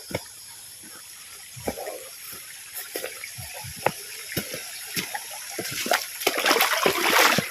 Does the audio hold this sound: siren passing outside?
no